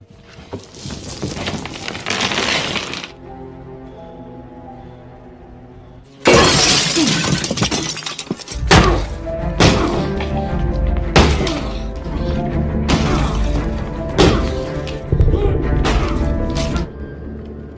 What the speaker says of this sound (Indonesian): Noah mengambil kapak besar dan menghancurkan lantai kayu kabin tua itu